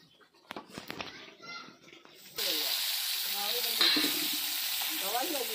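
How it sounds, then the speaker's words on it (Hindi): Bachhwa fish frying in plenty of oil produces a loud, even sizzle that starts abruptly partway through, after a quieter stretch of someone talking, with a short clink of a utensil against the pan. "मछली सब भून लिया हम"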